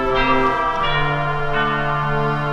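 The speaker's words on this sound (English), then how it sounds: "I'm going to introduce it with the bells." Church bells ring in a sustained, layered peal, their overlapping tones ringing steadily and loudly throughout as a prelude to a hymn, with no voices.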